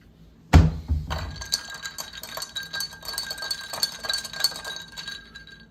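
A single sharp glass clink opens, then a stirrer clinks and rattles against a drinking glass in quick, irregular taps, close and fairly bright, with no voices.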